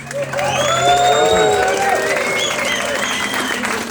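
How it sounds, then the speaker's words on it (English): Players and guests at the close of a Taffy Dakar 2017 event applaud steadily, with cheers and whoops rising over the clapping and voices shouting throughout. "Give yourselves a round of applause, please."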